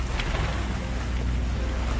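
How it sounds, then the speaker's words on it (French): A sailboat's engine runs steadily while motoring across a calm sea thick with sargassum, its low continuous drone mixed with wind and water wash, with no break over the whole stretch. "Je surveille le moteur là, que les hélices ne se prennent pas les sargasses"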